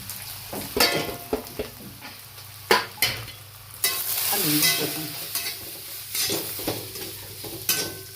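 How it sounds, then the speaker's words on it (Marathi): Spice masala for katachi amti sizzles and fries in a pan while a spoon stirs it, giving a steady close sizzle broken by repeated scraping and clinking stirs. "हा मसाला टाकून घ्यायचा सगळ्यात म्हणजे भाजून निघतो"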